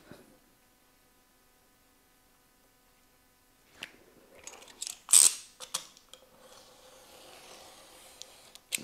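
Scissors cut card or paper for a Christmas village model building, a few close crisp snips and rustles arriving after several seconds of near silence.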